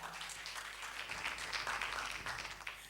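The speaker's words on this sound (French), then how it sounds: "on applaudit" An audience at a televised singing competition applauds steadily, a dense wash of clapping that holds even and moderately loud without a break.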